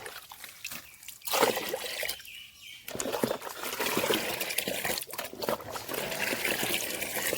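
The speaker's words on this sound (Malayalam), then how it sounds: "ഇങ്ങനെ വെള്ളം ഒഴിച്ച് കൊടുക്കുക" Water trickles and splashes as it is poured into a container of green leaves and grass to make a liquid solution, with short pauses between pours, close and fairly quiet.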